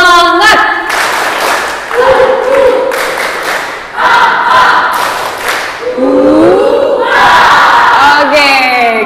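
A youth and teens Bible camp crowd claps rhythmically and shouts a chant together in bursts, loud and close, with voices calling out between the rounds.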